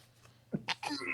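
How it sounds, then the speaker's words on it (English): A single sharp sneeze bursts out close by indoors, set against low background voices and room noise. "Sneeze"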